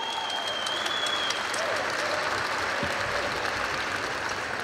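Sustained crowd applause fills the hall at a State Police anniversary celebration, a steady, loud roar of many hands with a faint tone and brief voices underneath.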